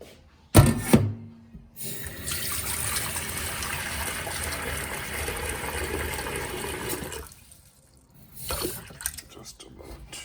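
Tap water gushing steadily into a cooking pot for pasta, a loud continuous splashing stream that cuts off, with brief kitchen clatter before and after.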